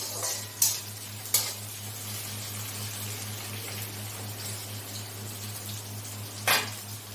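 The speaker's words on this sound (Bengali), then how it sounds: "কুচনো পেঁয়াজ দিয়ে এটাকে আমি একটু ভাজা ভাজা করে নেব ভালোভাবে" Chopped onion fries in a pan, a low steady hiss broken by three brief spatula scrapes or clinks, fairly quiet and without speech.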